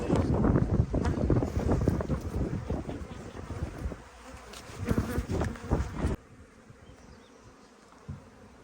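Honey bees swarm and buzz loudly around an opened hive during a spring inspection, a dense close hum with wind buffeting the microphone, dropping abruptly to a faint quiet near the end.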